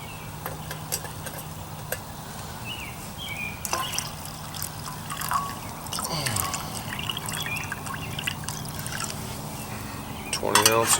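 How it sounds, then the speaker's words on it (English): Water trickles and pours into a pot at a solo woodland camp for a cup of coffee, with intermittent splashes and clinks and someone talking quietly over it. "I'll pour some more in and make a cup of coffee too."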